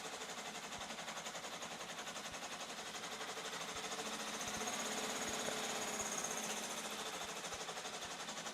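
A sewing machine runs continuously at a steady, fast mechanical rhythm with a faint grinding undertone, quiet and unbroken with no talking.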